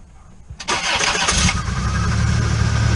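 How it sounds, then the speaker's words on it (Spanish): Car engine starting after a new battery was fitted: a brief starter crank, then the engine catches and settles into a steady, loud, close idle, with no talking. "Vamos a pedir que nos arranque."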